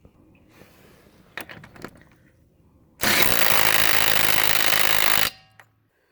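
A Makita cordless impact driver hammers at a car lug nut in one loud, sustained burst of about two seconds, preceded by quieter clatter and handling noise, close by.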